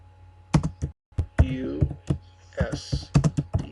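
Computer keyboard keys tapped in short irregular bursts while entering a footnote in a word processor, close and clear, with a voice speaking over parts of it.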